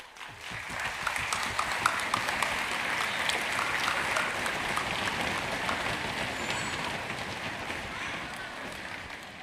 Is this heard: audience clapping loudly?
yes